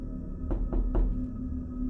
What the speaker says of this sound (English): it came again. Same rhythm. Knock, knock, knock.